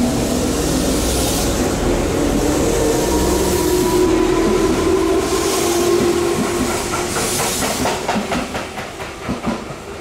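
A Tobu Noda Line train at Tsukada Station, a retro ground-level stop, rumbles steadily past with rail clatter and a rising clickety-clack of wheels on joints toward the end, close and loud.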